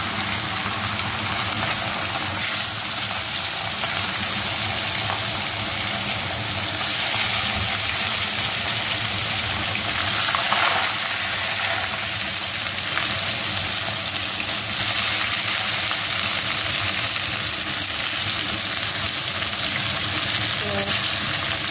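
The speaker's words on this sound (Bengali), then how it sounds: "চলো মাছটা প্রথমে একটু ভেজে ছেড়ে দেওয়া যাক কড়াইতে।" Fish frying in very hot oil in a wok, a loud, continuous close sizzle and hiss that holds steady without a break.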